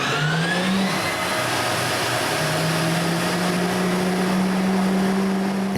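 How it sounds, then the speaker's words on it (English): F-15 Eagle fighter jet engines starting up: a steady loud whine with rising and gliding tones over a broad rushing roar that builds and holds, no voices. "there may not be a better sound than the startup sequence of an F-15 Eagle fighter jet"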